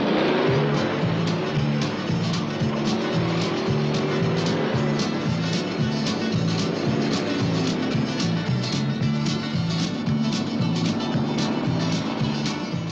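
Race cars roar through a flooded, mud-deep dirt course, several engines droning loudly and continuously with rhythmic revving pulses throughout.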